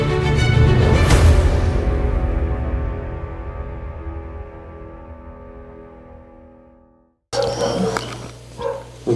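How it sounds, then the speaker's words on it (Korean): A dog barks outside with a loud, ringing cry that slowly fades over several seconds, followed by people talking nearby. "아니 걔가 왜 이렇게 자꾸 짖나 몰라 어. 밖에서."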